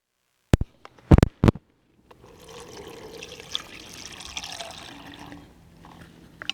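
A few sharp clinks and knocks, then a steady stream of water pours into a cooking pot over vegetables and cod for several seconds before tapering off.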